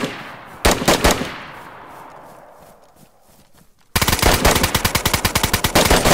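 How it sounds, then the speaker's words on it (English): Video game gunfire: a couple of loud shots with a decaying tail, then a sustained rapid automatic burst of evenly spaced, close, loud shots. "I'm about to shoot him."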